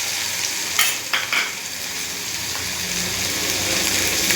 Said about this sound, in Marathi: सर्व एकजीव होईपर्यंत तेलामध्ये फ्राय करायचं।